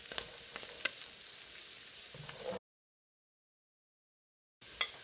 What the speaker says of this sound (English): Now this stir fry isn't gonna take very long.